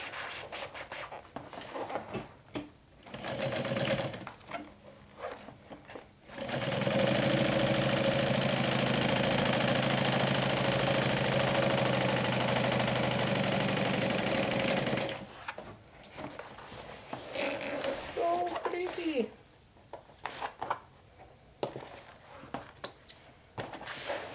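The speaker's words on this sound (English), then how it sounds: "let me go ahead and top stitch this. I'm top stitching towards the bottom" A sewing machine top-stitching a handbag made from a backpack pattern runs in one steady, loud, unbroken stretch, with quieter handling and scratchy fabric noises before and after it.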